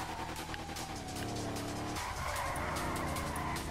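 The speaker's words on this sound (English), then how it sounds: "I got better at my drifting, though." A car drifting in GTA Online, with loud, sustained tire squeal and skidding over a revving engine that shifts pitch midway, heard close and continuous without speech.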